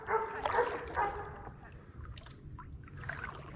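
A dog barks a few times nearby on a spring run in Florida, short sharp yips over the lapping of water against a paddleboard, fading off after the first couple of seconds.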